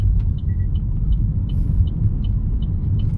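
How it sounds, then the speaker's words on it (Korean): A car pulls away in gear during a Korean road driving test, its engine giving a steady low rumble throughout while a faint repeating tick sounds at regular intervals above it. "자, 기어 넣고 출발."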